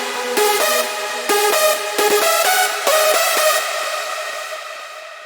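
A bright big room lead synth drenched in reverb and delay, playing a loud sustained melodic riff with stabbed notes and long smeared tails that fade out at the end, with no voices.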